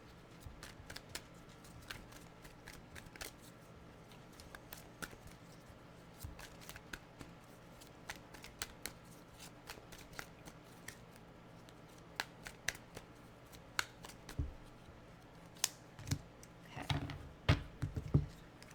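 Tarot cards are shuffled over and over, giving soft papery riffles and light slaps in an irregular rhythm, close and fairly quiet.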